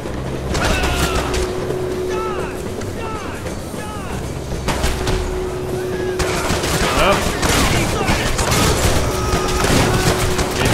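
Gunfire in the shooter Hatred sounds in rapid repeated bursts, loud and close against a noisy background of chaotic game sound, with occasional talk mixed in.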